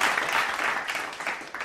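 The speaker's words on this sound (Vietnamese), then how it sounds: "Xin chúng ta cho một tràng pháo tay." A short burst of crowd applause, dense and fairly loud, continuous clapping from an audience at a contest.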